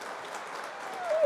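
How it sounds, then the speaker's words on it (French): A live audience at a conversation event with a former athlete and activist breaks into brief, steady applause, a soft dense patter of many hands that swells slightly at the end. "please, we can applaud him."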